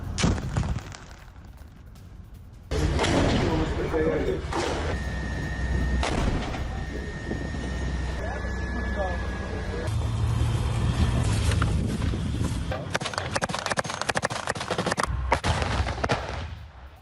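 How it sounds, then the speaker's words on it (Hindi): Tank shelling and gunfire against Hamas positions during a ground operation in Gaza, heard as loud, dense bursts of booming blasts and crackling shots that continue without a break over a rumbling background. "टैंक से हमास के ठिकानों पर शेलिंग की गई"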